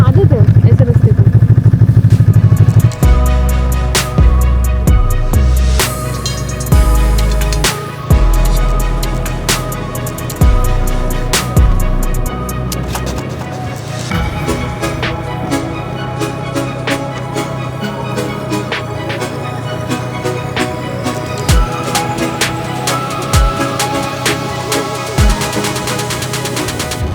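A snowmobile engine drones loudly on a bumpy snowy trail in Finland, with repeated jolts and clattering thumps as it bounces over rough ground, continuous throughout and close.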